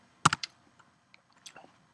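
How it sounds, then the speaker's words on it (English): Quick burst of clicks on a computer keyboard as a short command is typed, a few sharp keystrokes close by, then a pause and a couple more taps in a quiet room. "So to do this, I'm gonna type sudo"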